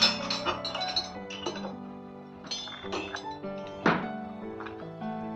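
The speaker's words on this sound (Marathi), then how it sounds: "आता याला छान हलवून घ्यायचं" Spoon stirring masala buttermilk mixed with crushed ginger and green chilli in a metal vessel, giving repeated clinks and knocks against the sides in an irregular rhythm, moderately loud and close, with no talk.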